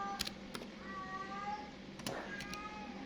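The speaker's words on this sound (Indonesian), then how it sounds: "ada suara kucing karena dia mau kawin" A cat in heat meows and yowls in drawn-out, wavering cries, several calls over a few seconds against a faint background hum.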